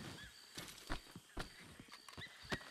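Horses in a video game whinny several times over a run of soft hoof clops and thuds, quiet and fairly close, with no talking.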